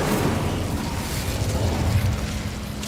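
An Incendio fire spell cast in Hogwarts Legacy: a sustained low booming rumble of flames with crackling bursts, loud and near throughout, with no speech.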